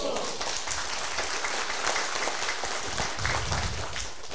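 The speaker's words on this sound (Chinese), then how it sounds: "是你们拍手的，我没叫你们拍手" An audience at a lecture for an administrative training class applauds in a steady, continuous patter of many hands while a voice talks over the clapping.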